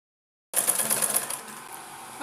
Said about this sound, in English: so I'll go ahead and stitch it.